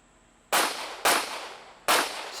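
Three sharp, loud pistol shots ring out at an outdoor USPSA match, spaced unevenly about half a second to a second apart, each with a short decaying echo.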